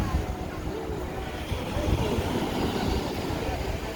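Small ocean waves wash onto Vermelha beach in Urca, Rio de Janeiro, a continuous broad rushing wash with gentle swells, mixed with wind and distant background noise, no clear speech.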